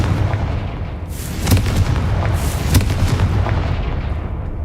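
Confringo explosion spell cast in the video game Hogwarts Legacy, sounding as a rumbling barrage with several sharp bursts and booms over a low roar. No one speaks.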